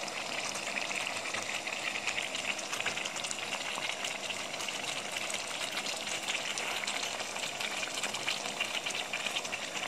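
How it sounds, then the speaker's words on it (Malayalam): Lemon pickle mixture boiling in a pot over a gas flame, a steady soft bubbling and sizzling hiss, constant and fairly quiet throughout. "നല്ലപോലെ തിള വരുന്നുണ്ട്"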